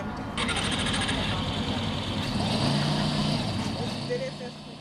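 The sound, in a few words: vehicle engine starting and driving off at driving school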